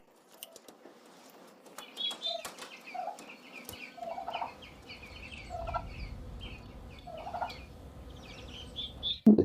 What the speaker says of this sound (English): In the greenhouse, only the large broilers and 3 big turkey chicks remained.